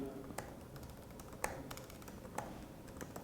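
Quiet keystrokes tap on a computer keyboard, an irregular run of light clicks with a few sharper presses, close and soft with no talk over them.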